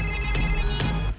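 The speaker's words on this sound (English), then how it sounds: "Let's call her. It's ringing." A telephone rings on an outgoing call, a loud tonal ring repeating twice in quick succession, heard alone.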